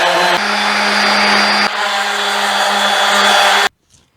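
A power sander with 80 grit sandpaper works the wooden hull of a dinghy, giving a loud, steady whine with a slight shift in pitch partway through, then cutting off abruptly before a short near-silence.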